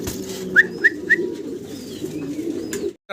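Fancy pigeons coo steadily at a pigeon farm, a low, continuous rolling murmur close by, with a few short, higher bird chirps standing out above it early on.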